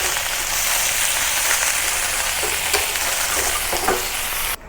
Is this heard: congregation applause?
no